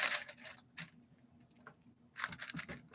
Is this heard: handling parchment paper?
yes